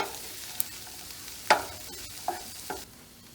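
Cooked bacon and onions being stirred in a pan, with a few distinct scraping clacks of the utensil against the pan over a faint sizzle, spaced irregularly and heard close up without talk.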